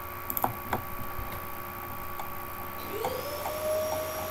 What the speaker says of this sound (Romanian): Dă mama cu aspiratorul.